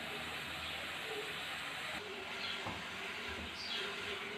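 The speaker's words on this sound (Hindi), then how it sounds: "देखें इसे सोटे करेंगे 5 मिनट के लिए" Chopped carrots and ingredients sauté in a pan for egg fried rice, making a continuous even hiss and sizzle at low, steady level with faint scraping touches throughout.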